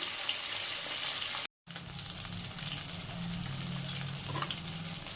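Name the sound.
fish frying in oil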